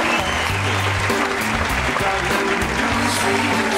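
Applause from an audience greets a speaker walking onstage at an acceptance speech event, a steady dense clatter of hands filling the room for a few seconds, with a low background hum underneath.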